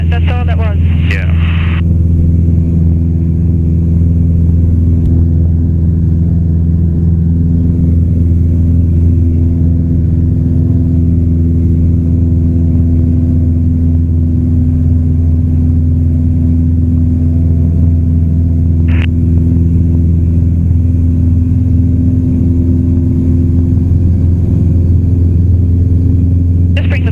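Light training aircraft engine droning steadily and loudly as heard from inside the cockpit, a constant deep hum that holds without a break throughout.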